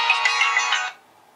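A Samsung Galaxy S III smartphone rings for an incoming call: a bright electronic ringtone with a steady melodic tone, close and clear, cutting off abruptly after about a second and leaving near silence.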